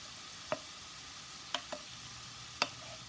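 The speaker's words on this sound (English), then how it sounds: "here's our zucchini, just slow cooking there in that nice butter with its seasoning" Zucchini slow-cooks in seasoned butter in a pan, a faint continuous sizzle punctuated by four sharp clicks of a utensil stirring against the pan, with no talking.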